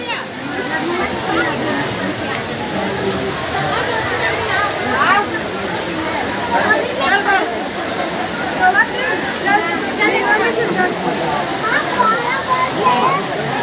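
A waterfall roars in a constant broad hiss while voices talk over it.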